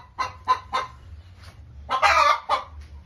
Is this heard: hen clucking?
yes